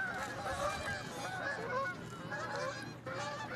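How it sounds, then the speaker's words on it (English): Geese arriving over a girls' soccer field keep up a dense, loud chorus of overlapping honks, steady with a brief dip near the end. "Here's some geese coming in."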